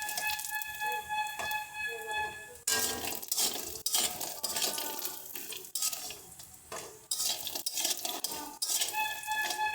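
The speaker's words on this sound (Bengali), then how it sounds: "সুন্দর করে বড়িটাকে ভাজবো।" Lentil dumplings (bori) fry in hot oil in a pan, giving a steady close sizzle broken by the clatter and scrape of a utensil stirring against the metal.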